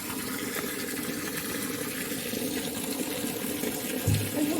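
Free-flowing drinking water is fetched in rural Bicol, a steady close gush of pouring water running continuously with a slight change in tone near the end.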